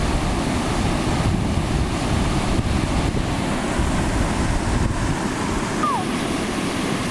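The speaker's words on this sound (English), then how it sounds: "We can hear some running water, so I think we might be close." Water flooding fast over the top of weir gates, heard as a loud, steady, continuous rush with wind buffeting the microphone throughout and no speech.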